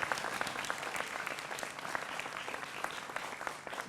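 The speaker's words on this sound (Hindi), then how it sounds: "जोरदार तालियां अनवर पाशा के लिए भी।" Studio audience applause for a guest on a Hindi television political debate show about the Delhi election, a continuous, fairly soft patter of many hands clapping that keeps an even level throughout.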